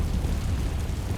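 The Confringo fire spell from the Hogwarts Legacy video game bursts as a deep, rumbling explosion that fills the whole short moment with low-end boom and no talk.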